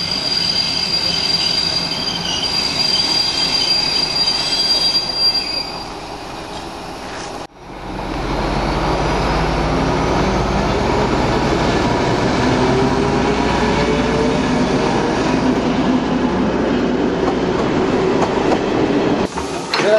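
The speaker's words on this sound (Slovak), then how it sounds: "mal každú chvíľu prísť pravidelný osobný vlak" A regular passenger train passes on the railway close by, a loud sustained rumble of wheels and carriages after an abrupt onset, with faint squealing and rhythmic clatter running to the end.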